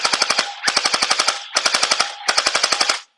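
Glock 17 style gel ball blaster firing in rapid full-auto bursts, four loud, close strings of evenly spaced sharp shots separated by brief pauses, with no talking.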